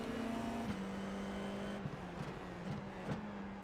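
F4 race cars lap the Tsukuba circuit in the iRacing video game, giving a steady, fairly faint engine drone with a held pitch that dips slightly at gear changes.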